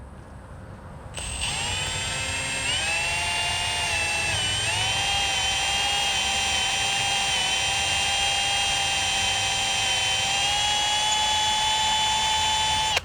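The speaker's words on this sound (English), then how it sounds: "I'm actually going to be pulling up on the drill some so that it doesn't crash in." A power drill whines steadily at high speed after a brief quiet start, its pitch shifting slightly as it bores through a pontoon boat deck, loud and close throughout.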